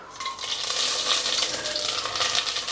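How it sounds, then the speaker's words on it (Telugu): Dried red chillies and cumin seeds sizzle in hot oil for a tempering, a dense, loud, close hiss that swells and holds steady without talk. "ఇదిగోండి ఇట్లా నూనె కాగింది. కాగినాక ఎండుమిర్చి, జీలకర్ర వేసేసుకుందాం."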